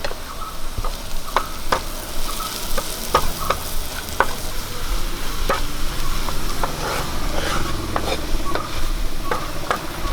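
Onion sautéing in a pan with turmeric, chili powder, garam masala and coriander powder, a steady close sizzle broken by repeated sharp scrapes and taps of a spoon stirring, with no talking, for an egg roast.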